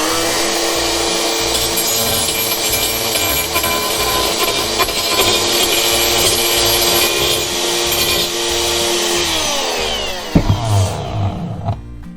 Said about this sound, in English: What I'm actually going to use is a little burr, and then I'm going to grind out